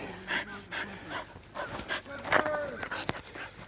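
A dog whimpers and whines in short, high-pitched bursts up close, with soft panting between the cries.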